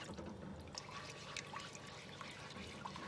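Broth pours into a pan for smothered pork chops in gravy, a soft, faint liquid trickle with light splashing and dribbles throughout.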